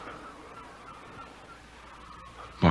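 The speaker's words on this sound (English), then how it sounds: "The flamingos. The birds." Flocks of flamingos attacking in a radio drama sound effect, a faint honking, goose-like fowl clamour held low in the background before a sudden loud burst at the very end.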